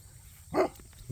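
A livestock guardian dog gives one short bark at middle distance on a farm with sheep, brief and fairly faint over quiet outdoor background.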